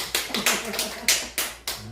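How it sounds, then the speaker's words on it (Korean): A church congregation claps during a Sunday sermon, about six spaced, echoing bursts of claps, fairly faint and irregular. "박수 한번 치시죠"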